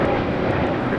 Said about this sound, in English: 519 taking off to Guadalajara on an A321neo.